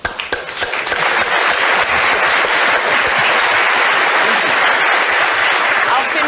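A television comedy studio audience, with a comedian among them, breaks into loud, sustained clapping that builds quickly from a few scattered claps. A faint voice runs under it.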